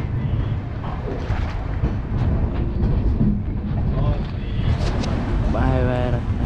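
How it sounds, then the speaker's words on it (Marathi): A Konkan Railway train pulls out of Ratnagiri, its loud, continuous rumble mixed with wind buffeting and voices near the microphone. "ट्रेन निघाली आता रत्नागिरीवरून."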